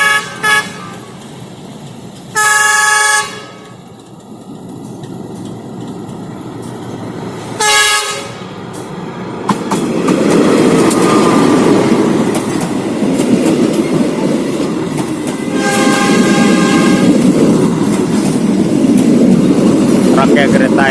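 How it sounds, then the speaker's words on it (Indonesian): A train approaching and passing the Ujung Muaro level crossing near Pariaman station, sounding several short horn blasts before a loud rumbling roll of wheels and cars, with someone talking intermittently. "Rangkai kereta ini akan memasuki stasiun kereta api Pariaman."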